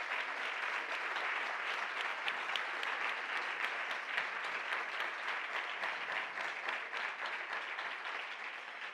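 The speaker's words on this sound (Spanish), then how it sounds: "También les pido un aplauso para Nuria Lavari." Audience at a literary conversation between writers applauding, steady dense clapping from a crowd that stays even and fairly distant throughout, with no talk over it.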